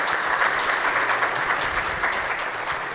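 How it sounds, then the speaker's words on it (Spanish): An audience at a panel dialogue on cannabis and regional development breaks into steady, dense applause, a close, continuous wash of clapping with no pauses and no speech. "Así que un aplauso para ella."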